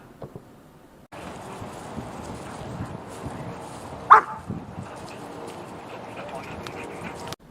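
A German Shepherd puppy in training lets out one short bark amid handler talk and background noise.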